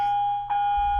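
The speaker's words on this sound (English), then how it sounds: "I love the bell that's in the background" A bell rings in the background with a steady sustained tone, struck again partway through and lingering, with a low rumble beneath.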